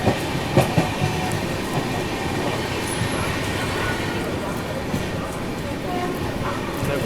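Rajdhani Express running at speed past a local MEMU train near Ghaziabad, with a steady rumble and rail clatter throughout and a few sharp knocks early on.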